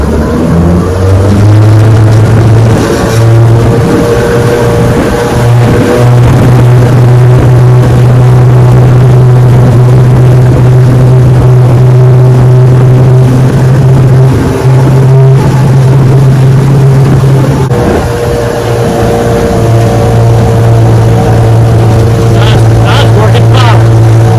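A 1968 Johnson 9.5 HP outboard boat motor, suspected of a failing fuel pump, runs loud and close with a steady droning buzz and brief dips, while someone talks over it.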